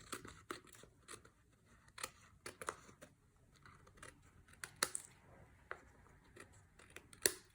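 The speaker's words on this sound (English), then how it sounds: "you can use your paper trimmer, whichever you prefer, and you want to cut off all these overhanging pieces of the designer series paper" Designer series paper is trimmed with a paper trimmer, giving a string of short, dry cutting and sliding clicks at irregular intervals, fairly close and quiet, with no talking.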